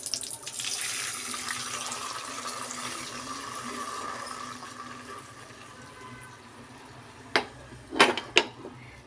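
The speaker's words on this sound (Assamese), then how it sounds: "ইয়াত মই এতিয়া গাখীৰ দি দিম" Milk is poured into a pot of cooking sweet rice, a soft, continuous liquid splashing that fades, followed by a few sharp clinks of utensils against the pot.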